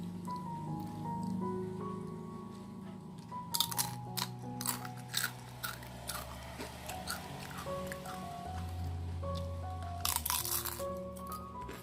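Crunchy peanut crackers (peyek kacang) being chewed close up, a series of sharp crisp crunching bites in irregular bursts over a low background.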